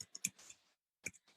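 Quiet typing on a keyboard: a handful of soft, close clicks in two short clusters separated by a brief silence.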